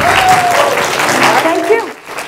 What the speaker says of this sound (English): A round of applause, come on.